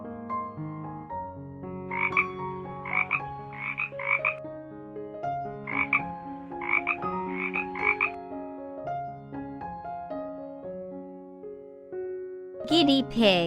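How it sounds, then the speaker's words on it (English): A frog croaks in short repeated bursts, several in quick pairs and clusters, set over steady melodic background music. "Frog."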